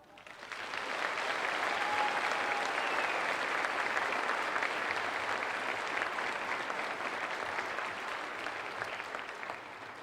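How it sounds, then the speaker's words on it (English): An audience at an Adams State University graduation ceremony applauds; dense, sustained clapping swells up quickly, holds steady for several seconds, then eases slightly near the end. "So if we could applaud."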